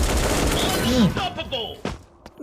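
Rapid bursts of AK47 fire in a first-person shooter video game crackle loudly in short volleys, broken by brief pauses, with game sound effects and someone talking over parts of it.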